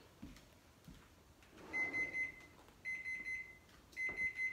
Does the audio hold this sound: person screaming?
no